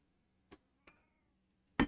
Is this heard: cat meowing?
yes